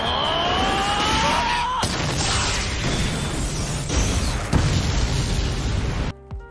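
A cartoon-style explosion with booming bursts and crackling debris, preceded by a rising whine, then a sudden cutoff into near silence.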